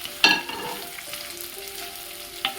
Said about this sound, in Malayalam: ഇനി ഇതിലേക്ക് നമുക്ക് മുരിങ്ങക്കായ ഇട്ട് കൊടുക്കാം